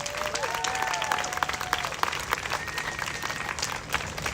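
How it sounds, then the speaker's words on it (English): A crowd applauds an interpreter at an outdoor pro-Palestine march in Washington, DC, with steady clapping over street background noise and a few whistle-like tones early on, continuing without a break. "Can we get a round of applause for Tara,"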